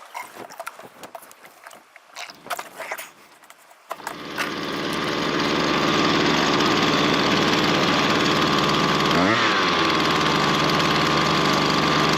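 A Husqvarna 223R brushcutter's small two-stroke engine is pulled over a few times with rattling, uneven bursts, then catches at about four seconds and settles into a loud, steady, buzzing idle close by, with a brief wobble near the end.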